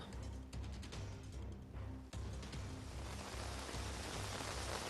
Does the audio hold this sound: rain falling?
yes